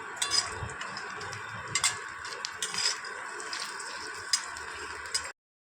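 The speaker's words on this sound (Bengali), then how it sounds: "ফ্রাইসটাই ভেজে নিই ভালো করে।" French fries fry in a pan with oil, giving a continuous close sizzle and crackle dotted with sharper pops and ticks, steady until it stops abruptly near the end.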